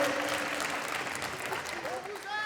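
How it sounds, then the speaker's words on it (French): An audience applauds at a national final during a gaming expo, a steady wash of clapping with people talking and calling out over it toward the end. "On les applaudit bien fort"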